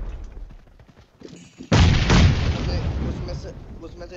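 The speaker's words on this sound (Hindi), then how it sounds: "मैंने 800-900 बम फेंके थे आगे भाई, सब फट गए" A sudden heavy boom from grenades blowing up in the mobile battle-royale game PUBG Mobile, loud and close, followed by a sustained rumbling roar that fades slowly, after a quieter stretch of game sounds.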